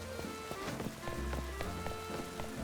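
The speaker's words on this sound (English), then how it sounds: "Is it raining now? It is!" Steady rain pattering on surfaces in the Pokémon Legends Z-A video game, a dense continuous patter with distinct drops landing throughout, alone with no voices.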